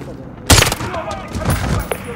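Gunfire in Call of Duty: Modern Warfare, one sharp loud shot followed by a short burst of further shots and rumbling, close and prominent.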